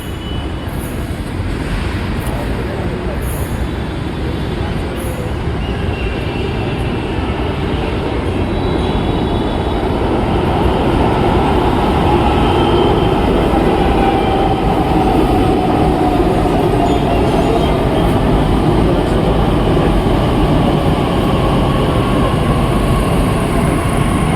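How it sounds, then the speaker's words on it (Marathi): A Pune metro train rumbles into the station with a steady, loud roar that builds slightly as it approaches, accompanied by a faint high whine and no voices. "आली मित्रांनो आपली मेट्रो"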